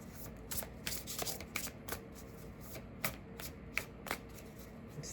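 A deck of tarot cards is shuffled by hand, making a run of soft, riffling card slaps and flutters in irregular bursts. The sound is close but quiet, and no one talks.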